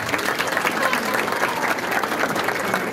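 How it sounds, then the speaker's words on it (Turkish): Strong, dense applause from a wedding crowd, a steady wash of clapping hands that fills the whole stretch at close range with mixed crowd noise underneath. "Bütün şahitler bize kuvvetli bir alkış rica edebilir miyiz?"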